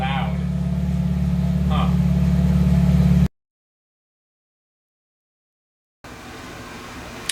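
A 1990 Mazda Miata with a 1.6 engine and a new exhaust idles close by with a loud, deep, droning note that swells slightly. After a brief gap of silence, the engine returns at a lower level, and a voice murmurs briefly.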